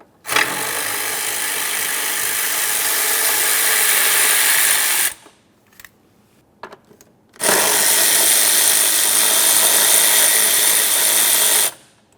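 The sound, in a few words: removing 10mm mounting bolts, Honda Accord window regulator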